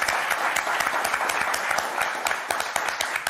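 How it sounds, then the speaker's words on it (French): A studio audience at a French television word game show claps for contestants, a dense, steady burst of applause close by with no talk over it. "On vous applaudit très fort"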